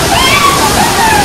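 Cold outdoor water during a dip at a Mussoorie stop, heard as a steady rushing and sloshing wash that fills the whole stretch, with faint voices underneath.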